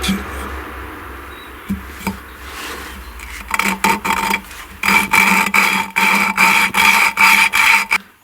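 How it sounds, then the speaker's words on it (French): Rhythmic rasping strokes as Fiat Panda 900 engine valves are lapped against their seats with lapping paste, quiet scraping at first, then a steady run of loud, regular back-and-forth grinding bursts. "Donc on les repasse un peu à la pâte à rodage, etc. Toutes les autres soupapes."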